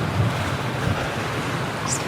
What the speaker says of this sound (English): Those waves are coming for me.